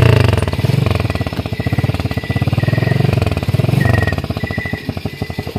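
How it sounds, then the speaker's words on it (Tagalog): A motorcycle engine revs up close, its rapid pulsing putter rising and falling in pitch over several seconds, loud and dominating with no talk over it. "Kusgam ni nga motor te."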